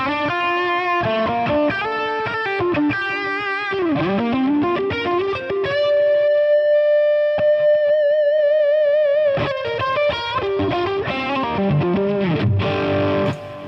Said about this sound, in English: you can hear with this gain and overdrive, even up, there's like a lot of clarity